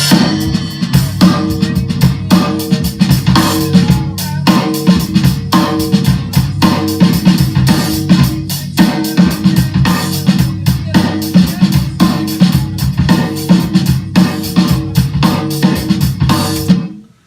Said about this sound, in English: So if you were just to listen to the drums